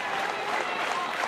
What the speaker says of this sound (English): Sooner fans standing, clapping